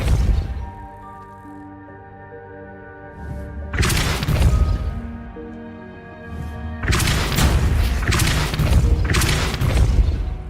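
The Depulso spell is cast in the video game Hogwarts Legacy, giving loud booming blasts with crashing, shattering bursts over a ringing musical drone, two forceful impacts a few seconds apart.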